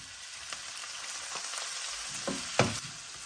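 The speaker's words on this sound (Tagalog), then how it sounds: "Kapag yung inyong bawang ay becomes aromatic na, ilalagay mo na yung ating kamatis" Chopped tomatoes go into a pan of aromatic frying garlic for a Filipino pork kinamatisan, bringing a soft, steady sizzle with a few clinks and stirring scrapes, one sharper clatter near the end.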